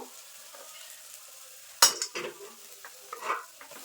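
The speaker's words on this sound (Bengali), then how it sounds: "ধনে পাতা কুচি দিয়ে সব কিন্তু ভালোভাবে মিশিয়ে নেব" A spoon scrapes and stirs cauliflower filling with coriander leaves in a dry wok, a faint low sizzle broken by one sharp metallic clank and several quieter scrapes close by.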